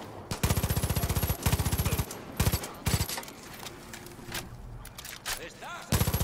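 Several loud bursts of rapid gunfire from the game Far Cry 5 on Xbox One come in quick succession, separated by short pauses, with quieter game sounds and occasional voices between bursts.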